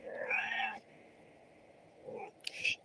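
A cat lets out a drawn-out meow, then a short pause and a couple of quicker, higher meows, close by.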